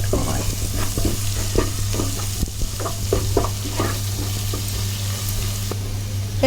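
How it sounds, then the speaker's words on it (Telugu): Marinated chicken hits a pan of golden ginger garlic paste and turmeric, setting off a loud, continuous sizzle broken by repeated stirring scrapes and clatters, with no talking. "ఇప్పుడు ఇందులో మనం మ్యాగ్నేట్ చేసి పెట్టుకున్న ఈ చికెన్ని వేసేసుకుందాం"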